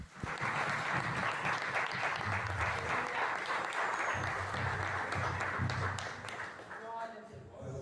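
A church congregation claps loudly and steadily at a Brazilian worship service, a sustained dense roar of hands, with voices carrying over it and the applause tapering near the end.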